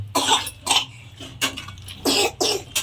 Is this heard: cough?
yes